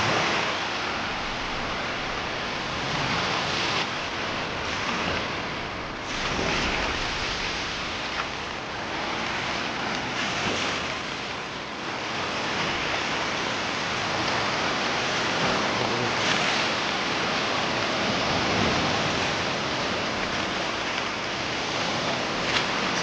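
Sea waves wash steadily onto the beach at Valencia, a broad continuous rush of surf with gentle swells in loudness and no voices over it.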